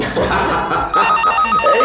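A telephone bell rings in a domestic drama scene, a repeating electronic trill that sounds close and loud, with faint voices and room sound underneath.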